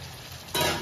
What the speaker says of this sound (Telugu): ఇప్పుడు ఇట్లా చికెన్ వేసేసుకోవాలి మొత్తం